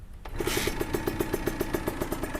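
A small Honda NSR 50 motorcycle engine fires up after a brief scrape, then settles into a steady, close idle with a quick regular putter, loud and clear with no talking over it.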